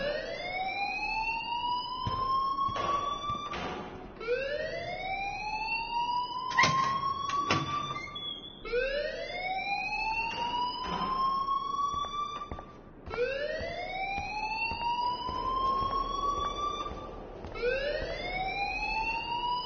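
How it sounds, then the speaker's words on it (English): A school alarm rings in a video game, with a loud rising electronic wail repeating in steady cycles every few seconds and sharp clicks in between. "please turn off that alarm since that's your job"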